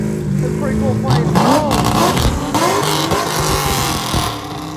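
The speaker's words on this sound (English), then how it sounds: "Oh, stick shift car having issues." A stick-shift race car's engine revs and rises in pitch at a racetrack, sounding loud and near, with other car engines mixed in and a person talking over the noise.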